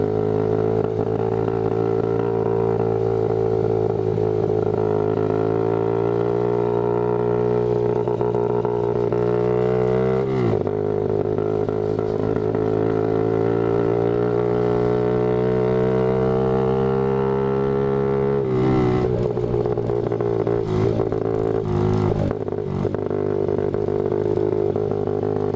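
A go-kart engine hums along continuously while cruising, holding a fairly steady pitch with a couple of brief dips and surges and some rattling toward the end.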